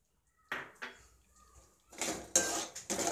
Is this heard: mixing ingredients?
yes